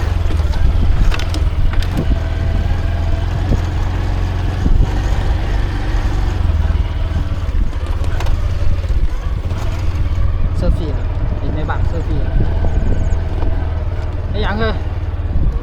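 A vehicle engine drones steadily while driving through farm fields and orchards, a loud constant low rumble with wind buffeting the microphone and a person talking over it throughout.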